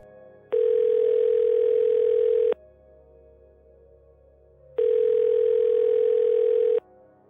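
A telephone call being placed gives two long, steady electronic tone bursts about two seconds each, separated by a pause of quiet line hiss, clear and close, with no voices.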